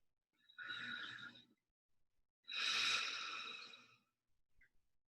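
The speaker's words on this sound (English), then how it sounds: "breathing in through the mouth and out through the mouth" Two slow, close breaths in and out through the mouth, each a long airy rush lasting about a second, separated by a short silence in an otherwise quiet room.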